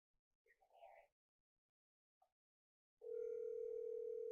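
On a phone placed on speakerphone, a few faint murmurs come first, then a brief click. After that a loud, steady electronic ringing tone holds without a break.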